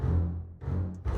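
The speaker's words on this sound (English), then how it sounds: "that nice bass bowed sound" Bowed double bass from the Spitfire Studio Strings library, low sustained notes with a soft rough texture, swelling in two or three connected bow strokes at moderate volume.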